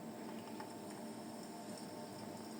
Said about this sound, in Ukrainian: Я відщіпую кусочок тіста і кидаю його туди в каструльку.